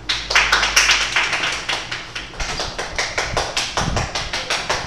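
A group of people clapping hands in a classroom at the end of a teachers' workshop, a loose run of quick, fairly close claps at an uneven rhythm with no voices.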